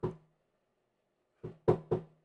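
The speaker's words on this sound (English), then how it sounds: "it starts out with somebody knocking on a door" Knocking on a door opens a hidden music track: one knock, a pause of over a second, then three quick resonant knocks in a row, alone against silence.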